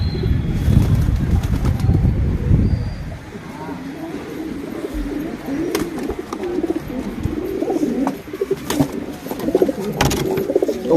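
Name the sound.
pigeons cooing and flapping wings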